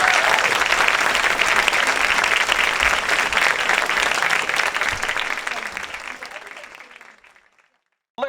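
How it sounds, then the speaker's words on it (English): A large press conference audience gives a loud, dense round of applause that holds steady, then fades out to silence over the last seconds. "Could we just have another huge round of applause for it?"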